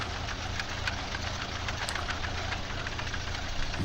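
A tractor engine running steadily in a farming game, a rough, knocking drone at constant revs with no voices over it.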